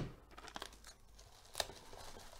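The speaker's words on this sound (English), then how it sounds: "Gonna tape the bubble wrap up" Tape pulled and stuck around bubble wrap for shipping, heard as quiet, close tearing and crinkling rustles with a sharper rip near the middle, alone with no talk.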